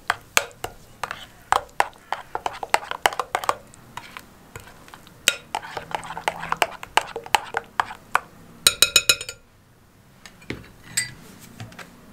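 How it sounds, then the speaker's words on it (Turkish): Spoon scraping and clinking against a bowl while yeast and salt are stirred in, a quick run of sharp, close taps and knocks that ends in a brief flurry of rattling, with faint talking underneath. "Şöyle bir karıştırayım."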